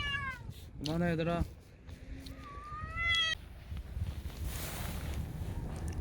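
Several cats meow and yowl in short bursts over outdoor wind noise, while a person speaks over them to break up the squabble.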